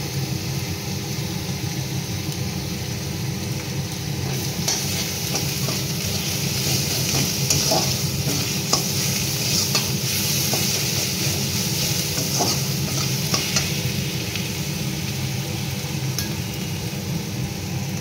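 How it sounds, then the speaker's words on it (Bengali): Nigella seeds tempering in hot oil for a Bengali pomfret curry with mustard, giving a steady close sizzle with faint stirring scrapes over a continuous background hum, no voices. "আর দিয়ে দেবো একটুখানি কালো জিরে ফোড়ন।"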